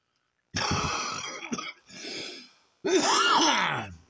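Three harsh, rasping coughs close by, separated by short pauses, the last one drawn out with a strained, groaning tone.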